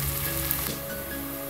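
Finely chopped garlic fries in hot oil with a loud, continuous sizzle that stays steady throughout, with no voices.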